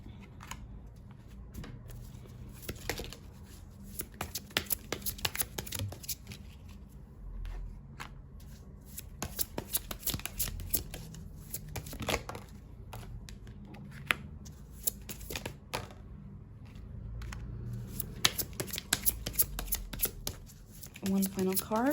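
Tarot cards being shuffled by hand, a steady run of crisp riffling and flicking close up, with brief talk near the end.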